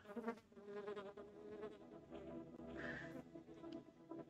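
A housefly buzzes steadily in the video game The Plan, a close, continuous droning hum that wavers in pitch.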